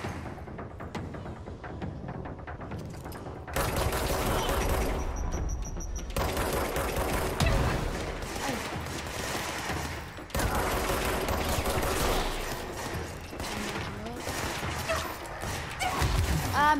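Pistol gunfire in the video game Control, a dense stretch of shots and impacts layered with crashes and game effects, continuing almost without a break throughout.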